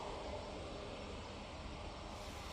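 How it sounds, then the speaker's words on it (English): A TUI Boeing Dreamliner departs Manchester Airport on a positioning flight to Belfast, a broad steady roar of jet engines, faint and distant, holding constant throughout with no talking. "I got TUI Dreamliner going off to Belfast pinging."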